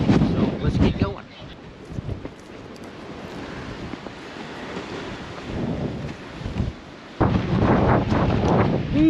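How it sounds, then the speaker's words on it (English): Strong coastal wind at the Sea Lion Caves on the Oregon coast along Highway 101, a loud, blustery roar buffeting the microphone in gusts, with people talking at the start and the end. "Ooh, windy."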